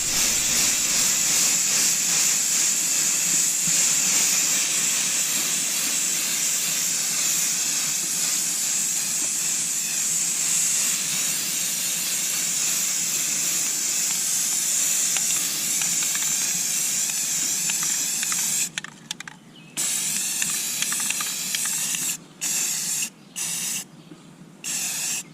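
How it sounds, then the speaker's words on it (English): Spray paint hisses steadily and loudly onto the inside of a Yeti cooler lid for about twenty seconds, then sputters into short bursts with brief pauses. "I'm going to paint the inside of the lid here."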